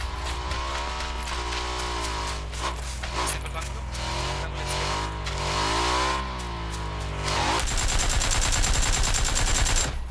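A buggy drives through a PUBG match, its engine drone rising and falling in pitch as it moves, overlapped by bursts of gunfire toward the end, with a voice talking over it.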